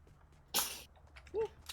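A single short sneeze bursts out in a quiet room, followed by a faint small vocal sound.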